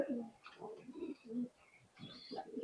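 Teddy high flying pigeons, a Pakistani breed, coo nearby in a series of throaty rolling calls, four or five bursts separated by short pauses, with no talk over them.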